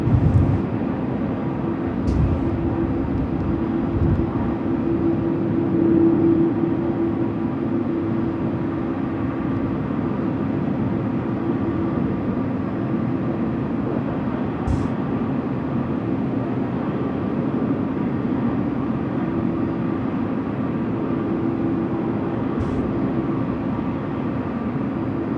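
A FedEx aircraft at Sydney Airport at night, a steady distant jet engine roar holding evenly throughout with no voices over it.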